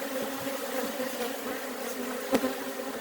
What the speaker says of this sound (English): So they're fanning and they're learning how to get back in.